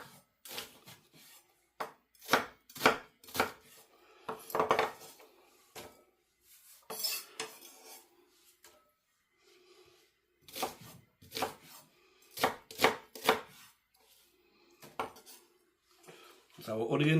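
Onion being diced with a knife on a chopping board for leek and potato soup, heard as quick bursts of sharp knife taps against the board with pauses between runs, close and fairly loud, with no talk.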